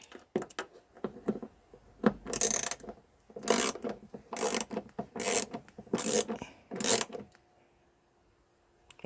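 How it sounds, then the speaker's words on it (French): Plastic fuel door part of a VW Golf 6 being screwed back on clockwise, giving a series of short scraping, ratcheting rasps in a steady rhythm, close and fairly quiet, with no talking. "On revisse dans le sens horaire"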